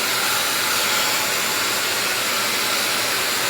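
A MonoMono Dreamworld hair dryer runs with a concentrator nozzle attached, giving a loud, steady broadband whoosh of airflow with a faint motor hum, uninterrupted and close for a few seconds.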